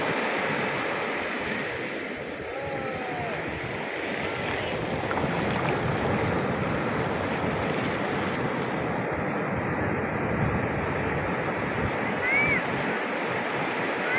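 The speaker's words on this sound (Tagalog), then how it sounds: "Ang laki ng alon, no? Grabe." Ocean surf roars steadily with heavy wind buffeting the microphone, a constant loud wash of water throughout.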